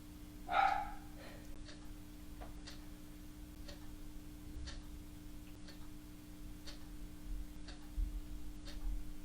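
Dogs bark from upstairs in a house during a quiet home yoga session, the barks faint and distant, a few scattered yaps over a steady low hum with ticking.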